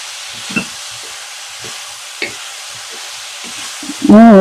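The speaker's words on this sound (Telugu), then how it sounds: "ఉప్పు వేసి అంతా ఇలా కలిపేసుకోవాలి" Ridge gourd pieces being stirred with salt in a pan: soft scraping spatula strokes at an uneven pace over a low background hiss, close and quiet, ending in a brief tonal clatter.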